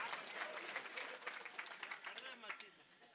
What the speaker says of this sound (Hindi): मैं चाहूंगा एक बार ताली बजा दे,